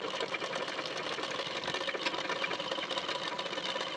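A sewing machine stitches a fabric strip, its fast, even needle chatter running steadily up close without a break.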